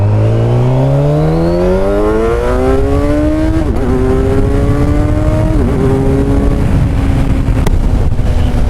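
A Kawasaki Ninja 1000SX with a stock exhaust accelerates hard in sport mode, its engine pitch climbing steadily through the gears with brief dips at each upshift, loud and close with wind noise throughout.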